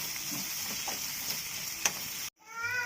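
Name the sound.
frying and stirring ginger garlic paste for samosa filling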